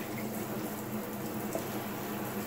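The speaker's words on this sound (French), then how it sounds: "Donc là, du coup, je peux ouvrir mon robinet d'eau chaude à nouveau." Water runs from a hot tap fed by a Clage CEX9 instantaneous water heater, making a steady, soft hiss of flow that stays even throughout, with no talking.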